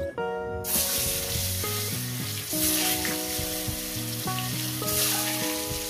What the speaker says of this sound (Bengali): তেলটা আমার গরম হয়ে গেছে। দিয়ে দেবো একটু লবণ আর হলুদ দিয়ে এক এক করে আমি ডিমগুলো ছেড়ে দেব।